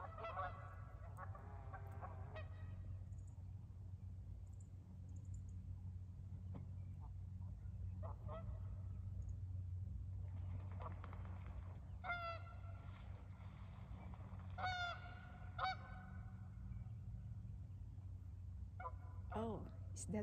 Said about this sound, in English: I don't know what is happening to those geese.